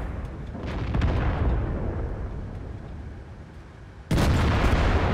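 Tank cannon fire in a World of Tanks battle with tier 7 heavy tanks: a steady rumbling battle din, then one sudden loud, sharp blast near the end that stays heavy afterward.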